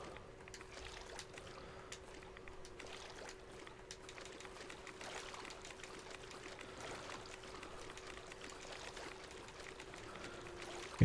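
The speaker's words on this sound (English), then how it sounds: "I'm going to collect some dirty water though" Soft, steady trickle and slosh of dirty water being collected in Fallout 76, quiet and continuous with faint clicks and a low steady hum underneath.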